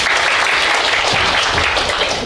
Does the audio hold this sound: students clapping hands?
yes